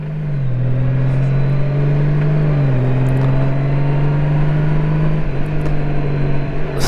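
A Honda Goldwing motorcycle with a DCT gearbox hums steadily at close range, its engine note stepping down in pitch as it downshifts under braking, with no speech over it.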